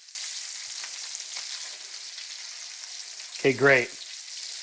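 Bacon fries in a pan for rigatoni carbonara, giving a steady close sizzle that fills the clip, with a short spoken remark near the end.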